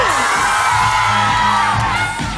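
A large crowd of people from various Philippine towns, answering an announcer's call at a live show, shouts and cheers loudly and continuously, with whoops and yells in a dense roar.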